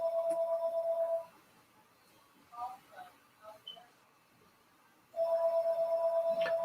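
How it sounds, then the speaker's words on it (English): Phone ringing with a steady electronic tone that sounds for about a second, pauses with faint background clicks and murmurs, then starts ringing again near the end. "Phone's ringing."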